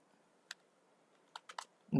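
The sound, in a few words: typing on a computer keyboard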